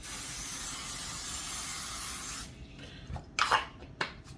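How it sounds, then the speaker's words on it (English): Cooking oil sprays from an aerosol can onto raw chicken, a steady close hiss for about two and a half seconds, followed by a few brief rubbing and handling noises. "I'm going to take a can of spray-on oil. We're going to give a light coat"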